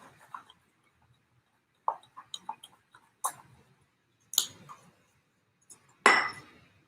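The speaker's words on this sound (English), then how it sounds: "And then you give it a nice stir." An essential oil cleaning mixture with bergamot oil being stirred, heard as sparse spoon clinks against glass, separate taps with quiet gaps between them and a sharper ring near the end.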